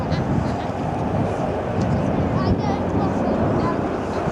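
A military jet, entering Royal Air Force service, flies a tight 360-degree orbit close by, a loud sustained roar with wind buffeting and voices over it.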